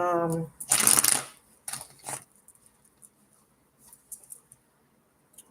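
A deck of cards is shuffled, a brisk riffling burst followed by several shorter soft riffles and taps, close and quiet, with a brief voice at the very start.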